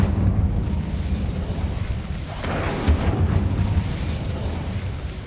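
An Incendio fire spell is cast in Hogwarts Legacy, a loud rumbling burst that swells into a whooshing blast with a sharp crack near the middle, then settles back into a low roar.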